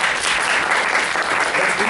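An audience at a convention Q&A breaks into loud, sustained applause, a dense continuous clapping that fills the whole moment without any speech over it.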